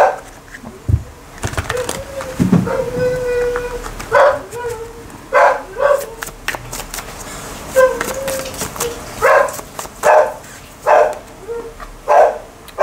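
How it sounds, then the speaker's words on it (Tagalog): A dog barks repeatedly in a residential neighbourhood, loud sharp barks in irregular bursts, with some whimpering and a tonal background sound early on. "Pasensya na kayo sa maingay na aso."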